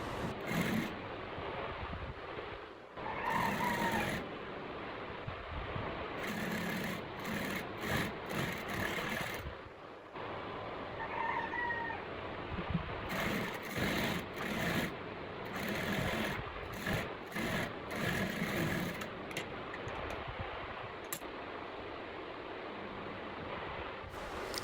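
A sewing machine stitches the center front and back seams of a skort, with a steady whirring motor running in long stretches broken by short pauses, close and moderately loud.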